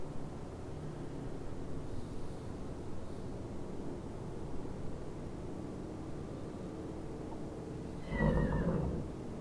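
A horse whinnies near the end, a short loud neigh over a steady background hum of ambient game sound in the survival strategy game Dawn of Man.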